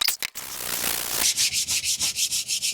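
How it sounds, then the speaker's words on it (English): Hand sanding of body filler on a Mk3 Ford Zephyr hotrod, probably with 80-grit paper: a steady rasp that becomes about ten close, even back-and-forth strokes. "So I can start sanding it, gradually shaping it up."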